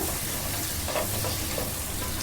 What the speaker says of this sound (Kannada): ಒಂದು ಕರಿಬಾರ್ದೆ ಸ್ವಲ್ಪ ಲೈಟಾಗೇ ಅವನ್ನ ಕರ್ಕೋಬೇಕು